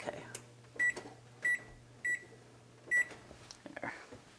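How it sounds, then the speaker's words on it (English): A kitchen timer sounds four short electronic beeps at uneven intervals as it is set, clear and close against a quiet room hum, with no talking. "I'm going to put the timer on for 20 minutes."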